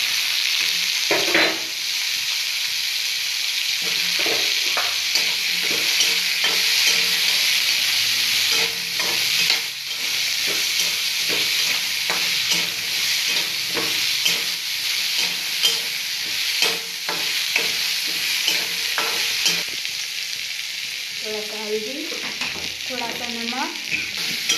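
Mango curry cooks in hot oil with panch phoron and dry red chilli, crackling and sizzling loudly and continuously as a spoon stirs and knocks the pan, and a voice speaks briefly.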